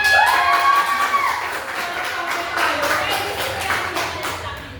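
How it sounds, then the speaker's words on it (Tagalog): A class claps for a fellow student named Matt: a brief voice opens, then a dense, fairly close round of hand clapping continues under light talk and gradually eases. "palakpakan din natin si Matt"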